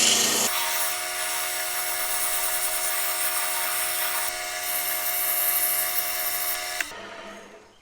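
A wooden pen spins on a lathe while 100 grit sandpaper rubs against it, producing a steady high whirring hiss that holds for several seconds before cutting off abruptly near the end.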